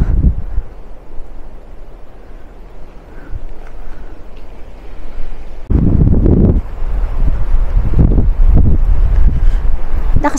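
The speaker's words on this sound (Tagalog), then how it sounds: "Lakas ng hangin na." Strong gusts on a mountain hike near Fushimi Inari Shrine buffet the microphone, building into loud roaring bursts in the second half, with faint rustling underneath.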